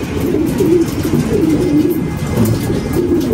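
A racing pigeon coos at the loft in low, rolling, repeated calls that continue throughout against a steady background hiss.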